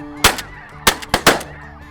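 Light geese honking close by in the field, with four sharp, loud honks in quick succession.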